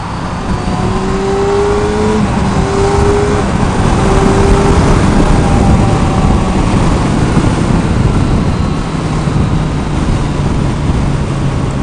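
Steady, loud motorcycle engine drone while riding on the road, with a constant hum and strong wind rush throughout and no talking.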